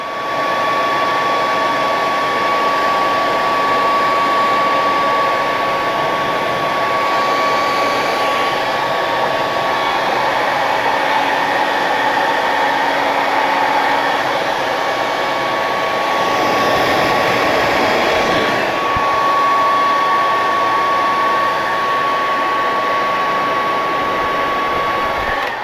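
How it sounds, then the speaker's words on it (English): A hair dryer blows hot air onto a resin figure part, a 1/4-scale custom Hulk kit, to soften it for bending. It gives a loud, steady whoosh with a high whine that runs unbroken and unchanging, with no voices over it. "You heat it up with a hair dryer."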